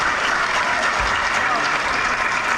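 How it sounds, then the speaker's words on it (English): A high school graduation crowd applauds the Custos, a steady, full burst of clapping that runs unbroken at an even level. "Could we have a better round of applause for our Custos?"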